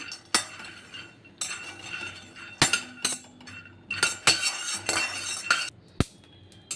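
Peanuts dry-roasting in a pan over low heat are stirred with a utensil, making irregular scraping bursts and sharp metallic clinks close by, with quiet pauses between strokes and no talking.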